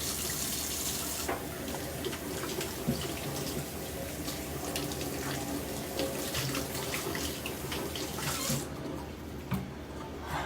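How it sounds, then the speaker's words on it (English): Carrots are rinsed under a steadily running kitchen tap, a continuous loud hiss of water splashing into the sink with small changes as the vegetables move in the stream. "Alright, rinsing my carrots off."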